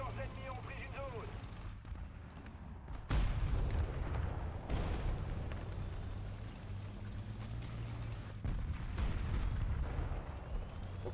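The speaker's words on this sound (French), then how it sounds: "il y a des tirs, ils me viennent un peu d'un peu partout là" In a tank video game, heavy booming shots and explosions hit in sudden bursts, several loud thuds spread across the scene over a rumbling engine bed, with faint talk underneath.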